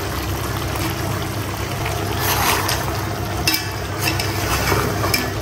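Onions being added and stirred into meat frying down in a pot for a Bangladeshi home-style curry, a steady close sizzle with scraping stir strokes and a few sharper clinks, no talking.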